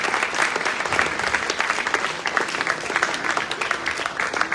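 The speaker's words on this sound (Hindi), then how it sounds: "एक बार जोरदार तालियां आपके लिए।" Loud, dense applause from an audience at a semi-final team event, steady clapping sustained throughout without a break.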